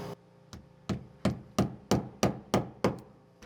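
Copper nails are hammered through a copper pan at a window, giving about nine sharp, evenly spaced metallic strikes that grow steadily louder, close up and with no voices.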